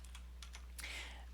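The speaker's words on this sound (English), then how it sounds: "Let me type in the topics." Faint computer keyboard typing on a Linux desktop setup, a handful of quick, light key taps over a steady low electrical hum.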